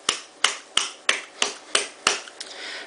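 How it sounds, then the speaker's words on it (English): Seven sharp knocks land at a steady pace, roughly one every third of a second, as the bottom of a grease can is tapped while a grease gun is refilled, with no talk over them. "So I'll need to keep putting grease in and tapping the bottom of this can"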